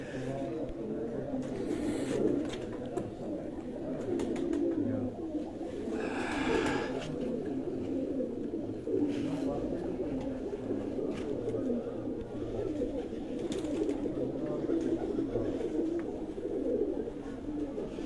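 Pigeons coo in a steady chorus of low, throaty rolling calls close by, overlapping continuously with occasional flutters and handling noises.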